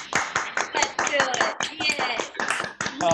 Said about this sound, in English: I would like to invite everybody to unmute and clap Mr. Joe